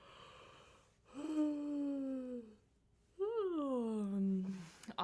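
Two long voiced yawns in a vocal warm-up, each rising and then sliding down in pitch, with a short quiet gap between them.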